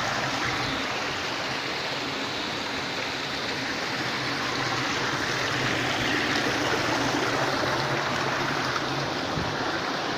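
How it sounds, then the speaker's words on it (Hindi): Steady rushing water from a small waterfall, a constant broadband roar with no breaks, fairly close and continuous throughout. "पता है झरना ज्यादा बड़ा नहीं है"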